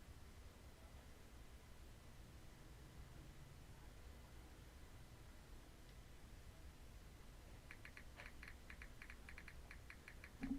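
Faint computer keyboard typing during a Pokemon Leaf Green session: a quick run of light clicks near the end, above a steady low hiss.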